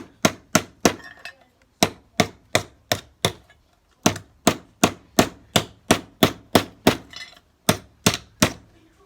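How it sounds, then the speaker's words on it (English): Repeated sharp hammer blows flattening a metal tailpiece for a cigar box oud or guitar, struck in quick, steady bursts with short pauses between groups, each hit ringing briefly. "we'll get ourselves a hammer and start flattening out the tail piece"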